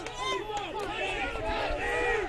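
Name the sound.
high school baseball crowd getting rowdy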